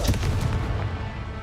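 Confringo, an explosive fire spell in the game Hogwarts Legacy, cast with a loud booming burst at the start that rolls into dense rumbling crackle for over a second, with no talking.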